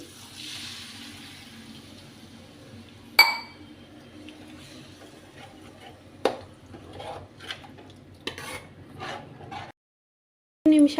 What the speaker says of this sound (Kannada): ಈಗ 1 ಲೋಟ ಆಗುವಷ್ಟು ನೀರು ಹಾಕ್ಕೊಳ್ತಿದ್ದೀನಿ.